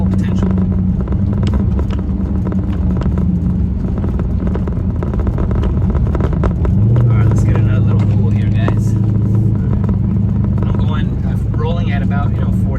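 Car running at about 40 mph after a DiabloSport Trinity T2 tune, a constant engine and road drone that swells into a louder, deeper tone partway through, with someone talking over it.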